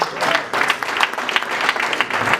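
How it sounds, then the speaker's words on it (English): An awards-ceremony audience claps steadily, a dense wash of many hands with small swells and peaks, moderately loud and sustained throughout without speech on top. "A round of applause, please."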